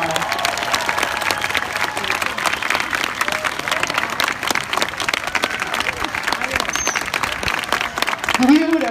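An audience at a sea lion show claps and cheers for a sea lion's jumps, a loud, sustained wash of applause with crowd noise and some voices mixed in.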